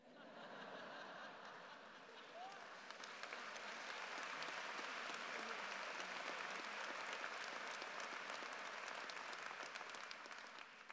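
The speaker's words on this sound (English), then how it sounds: "I know Governor Pataki appreciated the applause as well." Sustained crowd applause at a community vigil for the Pittsburgh shooting victims, loud and steady throughout with a few scattered laughs mixed in.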